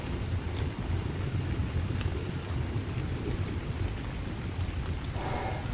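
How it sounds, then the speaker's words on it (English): Steady rain hiss in the video game ARK: Survival Ascended, heard while underwater, with a low rumbling wash underneath, continuous and even throughout, no voices. "I still don't know why I hear it raining when I'm below the waves."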